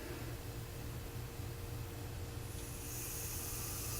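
An air engine with its valve barely cracked open gives off a steady, broad hiss that brightens slightly toward the end, heard up close with no talking.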